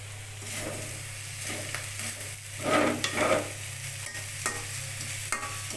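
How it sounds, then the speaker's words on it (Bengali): Meat with turmeric, chili powder, cardamom and cinnamon fries in a pan, a low steady sizzle broken by several louder bursts of stirring and scraping, close by with no voices. "এটা আগে ভাজা হোক"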